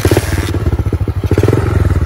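A mini motorcycle engine repeatedly fails to start on a trail, loud rapid chugging and clattering pulses that sputter without catching, close up.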